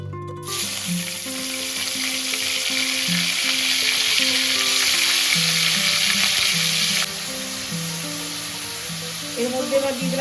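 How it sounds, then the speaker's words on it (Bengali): Oil sizzles loudly and steadily as chicken fries in a pan, with a continuous hiss that drops slightly near the end; a low tone hums underneath. "আমি অল্প অল্প করে তেল দিয়ে ভাজছি"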